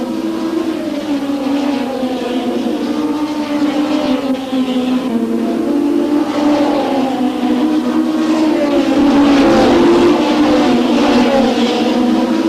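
Race cars roar around the Long Beach Grand Prix street circuit, a loud, sustained engine whine whose pitch rises and falls as cars pass, with no voices over it.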